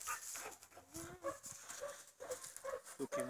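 A dog whines and yelps faintly in a family setting, its uneven vocal bursts mixed with soft background movement and noise.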